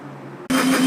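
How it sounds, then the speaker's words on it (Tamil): A blender grinds grapes with water, lemon and sugar into juice, switching on abruptly partway through and running loud and steady with a droning whine after a quieter stretch. "தண்ணி விட்டு அரைச்சிக்கலாம்."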